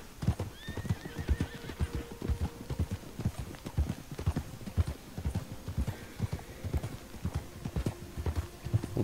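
Horses in Red Dead Redemption Online clip-clop steadily on a track, hooves thudding in a quick rhythm, with a horse neighing briefly near the start and again later.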